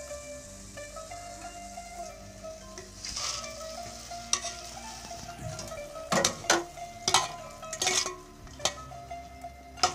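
Gram flour boondi frying in hot oil, a steady bubbling sizzle with clattering bursts from a ladle or slotted spoon stirring and lifting the drops, close and alone with no voices.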